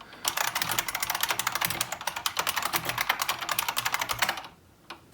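Fingers type on a computer keyboard in a quick, uneven stream of close clicks for about four seconds, then pause before one last lone tap.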